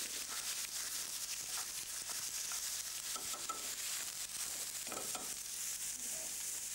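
Eggplant and a teaspoon of cumin sizzle steadily in a frying pan, a continuous close hiss with faint stirring scrapes throughout, no voices.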